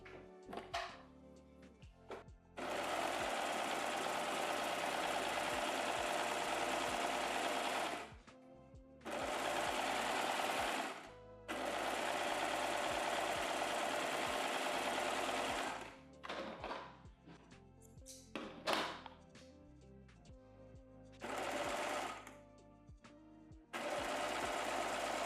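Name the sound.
sewing machine stitching a swimwear strap without elastic foot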